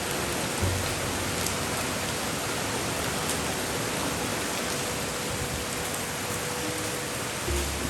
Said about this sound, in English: Look at the rain. It's a real gentle rain today.